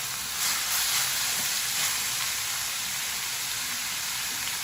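Grated papaya thoran cooking in a pan, a steady soft sizzle and hiss of moisture steaming off, with light stirring scrapes early on and no voices.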